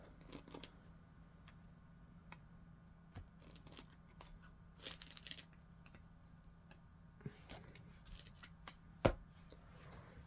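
Square-less tarot cards are flipped and shuffled by hand, giving scattered soft flicks and papery slaps at an uneven rhythm over a faint low hum, with one sharper snap near the end.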